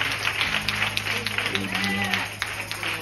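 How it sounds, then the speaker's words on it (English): Church congregation clapping hands during a gospel choir anniversary service, steady dense applause-like clapping mixed with voices and music throughout. "Clap your hands."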